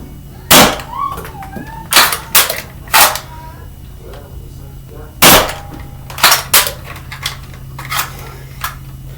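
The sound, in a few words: Dart Zone Aeon Pro blaster firing half-length foam darts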